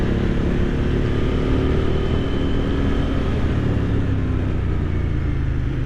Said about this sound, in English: I do love the sound of this bike